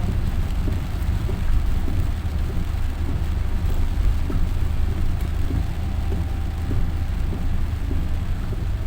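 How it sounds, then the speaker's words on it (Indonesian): Heavy rain falling steadily during a night motorbike ride, a dense, loud, continuous hiss with a low rumble beneath it and no speech. "Lah kan apinya kecil, hujannya kan gede."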